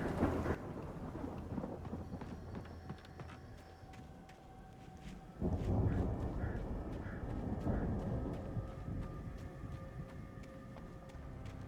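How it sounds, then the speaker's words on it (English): A thunderstorm rolls through the video game Alan Wake, with steady rain and a loud crack of thunder about halfway through that leaves a rumble, and no voices. "that storm we all felt coming is finally here"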